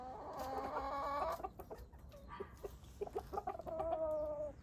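Chickens cluck nearby in bursts of short calls and drawn-out squawks, with a quiet background, on a spring day.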